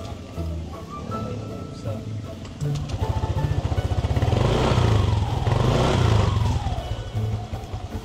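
A motorcycle with a shattered CVT starts up and runs with a rapid, rough putter and clatter, rising and falling as it revs, while someone talks over the engine.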